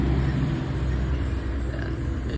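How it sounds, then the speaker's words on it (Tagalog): Road traffic passing a house at the roadside: a continuous low engine rumble with a swelling whoosh of passing cars or trucks, steady and moderately loud, heard from indoors without voices. "Nandito lang yung bahay namin sa gilid ng kalsada. Kaya may maririnig kayo dyan ng mga sasakyan."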